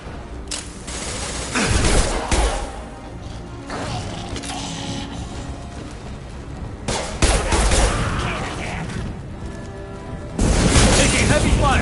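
Heavy gunfire and booming blasts in the Mass Effect video game, dense bursts of shots swelling loudly near the start, middle and end over a steady rumble of combat.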